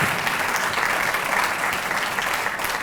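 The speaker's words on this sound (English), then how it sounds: "That sounds like an applause line to me." A university convocation audience applauds in a dense, continuous wash of clapping that holds steady throughout, fairly loud with no single clap standing out.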